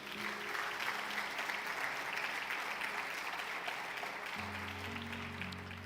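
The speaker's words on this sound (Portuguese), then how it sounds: "Pode aplaudir Jesus?" A church congregation claps in sustained, dense applause, loud and steady throughout, with a low musical tone entering near the end.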